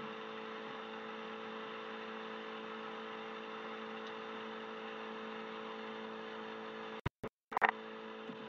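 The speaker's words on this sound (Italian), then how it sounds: "Motore al minimo, siamo lentissimi ora," Steady, faint drone of a P2002 light aircraft engine idling in flight at low speed, an even hum that holds constant before a few sharp bursts of noise near the end.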